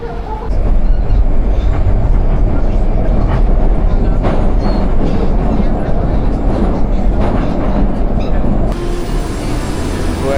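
A Moscow metro train at Sukharevskaya station thunders past close by, its loud, continuous rumble mixed with wheel clatter and rail hiss for the whole stretch.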